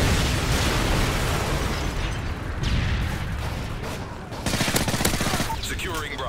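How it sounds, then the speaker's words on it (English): Predator missile strike in Call of Duty: Modern Warfare 3, a loud sustained roar of explosions and crackling blasts with gunfire bursts layered over it, filling the whole stretch without letup. "Friendly Predator missile inbound."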